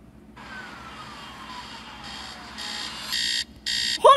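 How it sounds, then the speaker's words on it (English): A BMO alarm clock from an Adventure Time trailer beeps and rings, starting soft and building into loud repeated electronic bursts with short gaps, ending on a sharp final chirp. "Is that a BMO clock? I want a BMO alarm clock."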